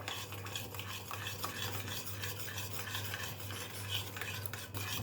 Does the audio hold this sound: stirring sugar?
yes